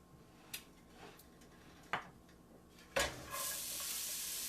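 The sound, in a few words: chopped onion sizzling in hot olive oil pan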